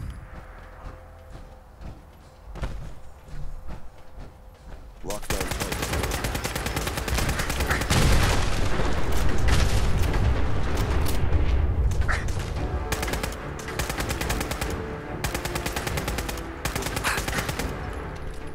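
Rapid gunfire and explosive bursts from the Fallout 4 video game, with automatic fire and crit rockets, loud and dense after a quieter opening, sustained volleys continuing to the end.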